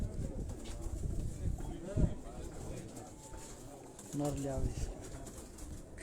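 Champion flying pigeons kept at a Quetta home give a couple of soft, low coos close by, under a man's speech and handling noise.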